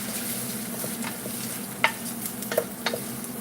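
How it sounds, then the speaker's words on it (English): Pasta being stirred in a pan over a steady background sizzle, with a few short scraping clinks of the utensil near the end, close and moderate in level, no voices. "Let's just give this a bit of a stir, otherwise that's going to get upset."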